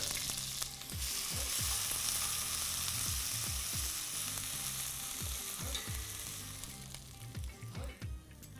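Cumin, crushed chili and ginger fry in hot oil with a loud, continuous sizzle, and repeated scraping stirs of a spoon in the pan set up an uneven rhythm. Nobody speaks.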